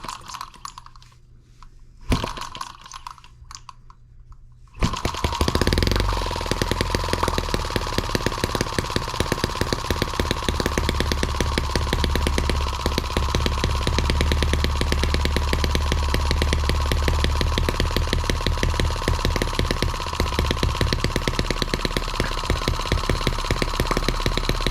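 A Chinese M17B engine starts after a few quiet seconds of fiddling and a brief crank, then runs on loudly and steadily, a rapid, even mechanical clatter sustained to the end without speech.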